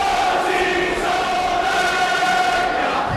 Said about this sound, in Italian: Ed ecco l'applauso del popolo dell'Oca mentre arriva a Porto Alave.